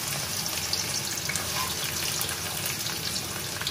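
Onions frying in a pan, a steady, dense sizzle and hiss held at an even level throughout, close and continuous with no talk.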